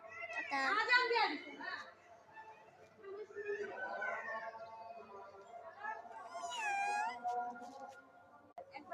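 Two cats meow close by in a few drawn-out rising and falling cries spread over several seconds, with quiet stretches and soft background noise between them.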